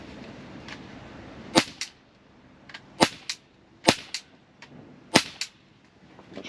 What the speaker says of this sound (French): Je pense que je tire dans le vide pour l'instant,